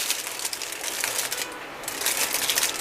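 Aluminum foil crinkles and crackles steadily as it is wrapped around a pan of roasted chicken and vegetables. The sound is close and continuous, with no talk.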